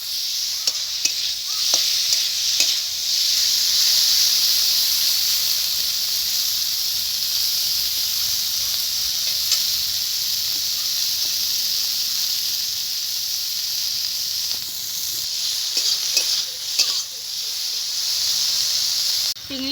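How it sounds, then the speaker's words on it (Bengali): Prawns rubbed with salt and turmeric fry in hot oil, a continuous close hiss and sizzle with occasional sharper crackles and pops scattered throughout. "তেল গরম হয়ে গেছে বন্ধুরা, এবার চিংড়ি মাছটাকে ভেজে নেব।"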